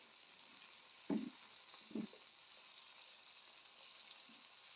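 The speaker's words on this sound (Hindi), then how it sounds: "अब हम इसमें डालेंगे टमाटर का पेस्ट। बिस्मिल्लाहिर्रहमानिर्रहीम। इसको भी अच्छे से फ्राई करेंगे।" Tomato paste fries in a pan with a soft, steady sizzle, broken by two brief louder stirring clatters near the start; quiet and close, with no talk.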